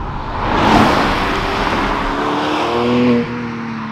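A Porsche Cayman GTS with its 4.0-litre flat-six and manual gearbox sweeps past loudly, a rising whoosh of engine and road noise swelling then settling into a steady tonal drone before cutting off abruptly.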